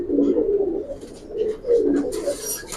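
Giribaz pigeons, including males, coo in low, rolling bursts at a loft, several calls overlapping close by, with a faint rustle near the end.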